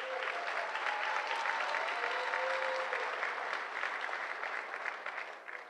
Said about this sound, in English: let's clap it up for Rachel